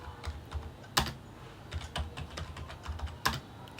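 Command typed on a computer keyboard in a terminal, a steady run of close, crisp key clicks with a few louder strikes, heard alone.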